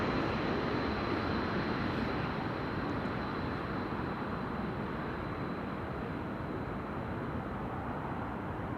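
A KLM jet arriving from Berlin at Schiphol Airport gives off a constant, fairly faint broadband engine rumble with a thin high whine, steady and without change.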